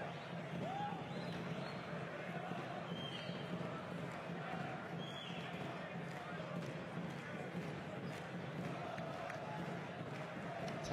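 A basketball arena crowd keeps up a steady roar during a European professional game, a low continuous swell of voices with faint squeaks and ball bounces, heard at a distance under a commentator's voice.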